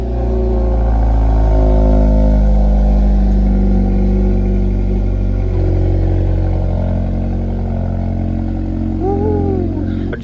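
A 2025 Hyundai Elantra N, started by remote start, idles with a loud, steady engine rumble that holds evenly throughout, and a brief higher whine or chirp rises near the end.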